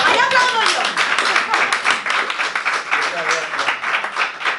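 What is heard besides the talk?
audience applause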